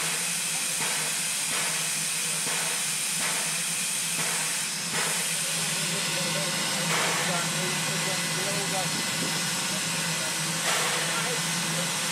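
A mainline steam train works its way down the Otira Gorge, its hissing steam and rhythmic chuffing beats running steadily under a constant rumble, fairly loud and close.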